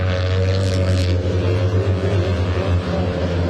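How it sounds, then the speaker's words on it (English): Two-cylinder racing truck engines buzz at Pembrey Circuit during a British Truck Racing Championship race, a loud, steady droning growl that holds without a break. "Extraordinary buzzing sound of these two-cylinder engines"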